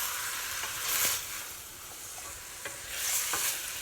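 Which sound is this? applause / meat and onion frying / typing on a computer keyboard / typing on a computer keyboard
meat and onion frying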